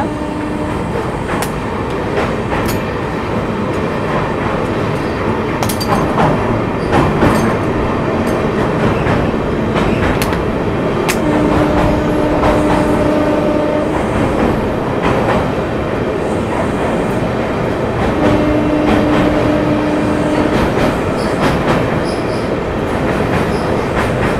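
An Amrit Bharat Express rolls over the Kaveri river bridge, a loud steady roar of wheels on rails with repeated clicks and two long squealing tones, heard from inside the carriage.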